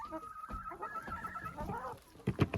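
Farm hens cluck busily while being fed a treat, a steady overlapping chatter of close, mid-level clucks ending in a few louder, sharper calls.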